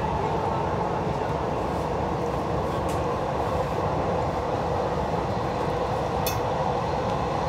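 Dubai Metro train running on its line toward Expo 2020, a steady, loud rumble of wheels and motors filling the whole span, with faint brief squeals near the end.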